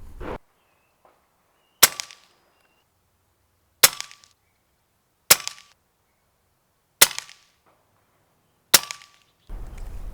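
An Umarex Notos Gen 2 air rifle shooting pellets at a 25-yard range fires five sharp, loud cracks, each standing alone, spaced roughly one and a half to two seconds apart with silence between.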